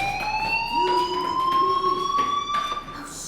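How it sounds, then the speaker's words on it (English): A school fire alarm in the video game Life Is Strange: Before the Storm wails as a steady, loud electronic siren tone that slowly rises in pitch, with faint background noise and no talk. "Hey, do you hear that fire alarm?"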